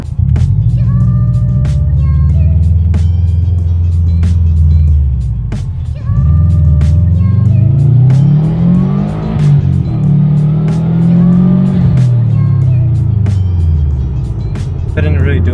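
Subaru car accelerating hard in first gear, the engine note climbing repeatedly through loud revving pulls with gear-change dips between them, heard close up from inside and without talk.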